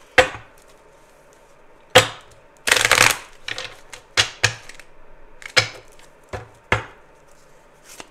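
A deck of angel oracle cards being shuffled by hand in a quiet room: a series of sharp, papery riffles and slaps in separate bursts with short pauses between them, close and fairly loud, with no voices.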